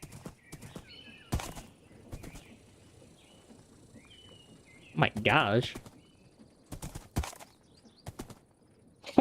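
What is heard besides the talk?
horse hooves clip-clopping along railway tracks in a video game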